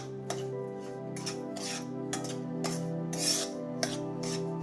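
Gram flour roasts in a pan over low to medium gas while a utensil scrapes and stirs it, making repeated rasping strokes with light metallic scraping against the pan. The sound is close and fairly even, and no one speaks.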